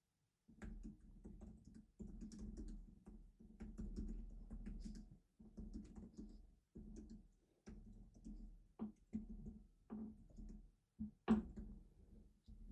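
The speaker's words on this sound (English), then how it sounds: "let's do a bit of a typing test here" Someone types on the keyboard of an Apple iPad Pro M5. Short bursts of light, tactile key clicks come in quick runs with brief pauses, close up and quiet, with no talking.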